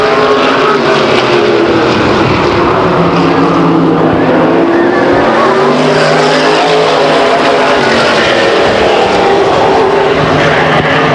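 Race cars roaring around the Stockton 99 Speedway asphalt oval during a 1999 heat race, a loud continuous engine drone with rising and falling pitch as the pack passes, dense and unbroken throughout.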